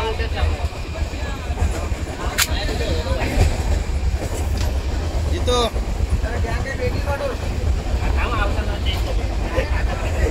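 Steady low rumble inside a moving train, continuous and loud, with rattling and people talking over it throughout.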